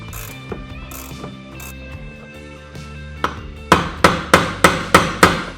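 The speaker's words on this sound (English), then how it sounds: "Then we're gonna work that bolt off and take the arm off." Bolt being worked loose from the wiper arm of a Jeep Wrangler JL, with soft clicking of a ratchet leading into a run of six sharp, evenly spaced mechanical clacks up close, no talking.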